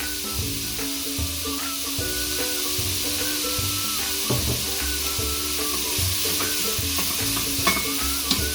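Spinach frying in a pan for a Spanish omelette, with a loud continuous sizzle and hiss and occasional stirring scrapes, close up and steady throughout.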